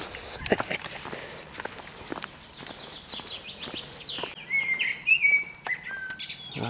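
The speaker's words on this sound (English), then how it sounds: "The old blackbird and pigeon." Blackbird and pigeon calls and chirps ring out nearby in bright bursts, with soft rustling and crunching steps beneath them outdoors in the countryside.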